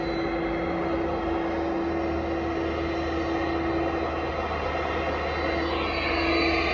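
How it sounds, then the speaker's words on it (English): An Amazon cargo airplane's engines drone loudly and steadily at the airport in Stockton, a continuous roar heard from nearby without a break. "That's Amazon plane."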